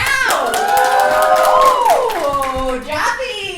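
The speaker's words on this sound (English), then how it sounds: "If you thought Ben's was the best, cheer now." A convention panel audience cheers and claps in a loud burst of whoops and applause, with shouting voices rising and falling.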